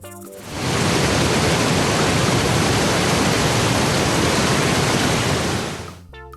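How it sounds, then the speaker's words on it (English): Constant roaring hiss of falling water from a waterfall, close and even throughout, rising at the start and tapering off at the end, with nothing else heard. "Waterfall."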